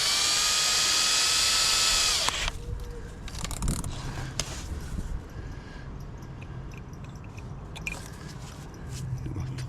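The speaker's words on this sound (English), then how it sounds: "So you've got to put your drill in reverse. Got to put your drill in reverse. This is a left-handed drill." A power drill runs in reverse with a left-handed bit, working on a bolt of a rough-running Range Rover. It gives a loud, steady whine for about two seconds, then cuts off, leaving quieter scraping and handling noises.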